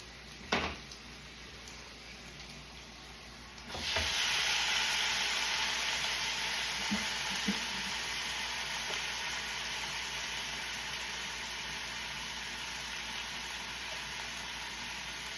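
Food hisses on a Deluxe electric grill and griddle just after being flipped: a brief clatter, then a sudden loud, steady sizzle that stays strong and close, slowly easing with no talking.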